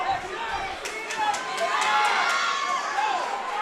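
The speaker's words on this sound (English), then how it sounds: "He's feeding off of the crowd's energy. They're cheering him on" A boxing crowd at Sony Hall cheers and shouts for Micheal Hughes during his fight against Nelson Morales, a dense, swelling roar with scattered sharp claps and voices throughout.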